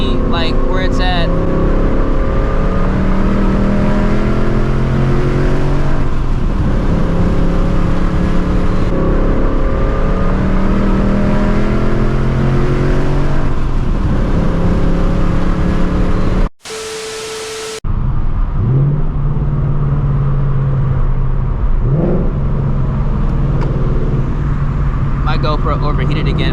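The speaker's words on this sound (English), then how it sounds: "Do a little third gear roll just to kind of see like where it's at." A 2024 Mustang GT running E85 pulls hard in third gear, a loud, sustained engine drone rising in pitch over many seconds, briefly cut by a gap before it resumes, heard from inside the car.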